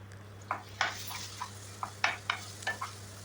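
Red chillies and curry leaves fry in hot oil with a steady low sizzle, punctuated by repeated sharp clinks of a spoon stirring against the pan, close and without speech, over a constant hum.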